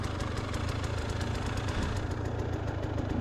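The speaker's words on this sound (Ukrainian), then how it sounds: "мотоцикл тяжкий, старий" A heavy old motorcycle engine idles steadily, a loud, continuous low-pitched rumble with a rapid regular knocking pulse and no voices over it.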